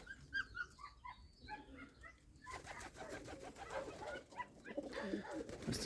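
Pigeons in a village pigeon loft give a few soft, close coos, followed by louder shuffling, wing rustles and mixed noise in the second half.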